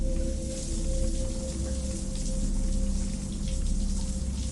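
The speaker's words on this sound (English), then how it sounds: "I want to take a shower first." Steady shower water runs in a video game apartment, a continuous hiss of falling spray with constant loudness throughout and no talking.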